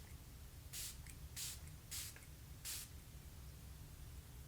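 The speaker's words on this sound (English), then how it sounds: "let's give it a spritz" A beauty product spray bottle lets out four quick, faint spritzes at close range, each a short airy hiss, spaced under a second apart against quiet room noise.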